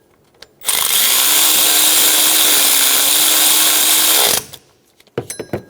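Power tool run on the power steering pump bolts of a 2005-2015 Toyota Tacoma: one loud, steady, continuous whir of about three and a half seconds with a slight wavering tone, then brief small clicks and knocks as it stops.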